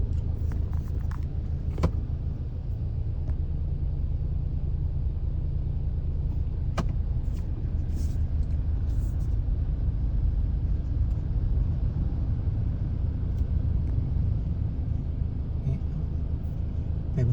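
Traffic in a jam on a road heading toward Wang Sai, with a steady low rumble of idling and slow-moving cars throughout and a few faint clicks and knocks nearby.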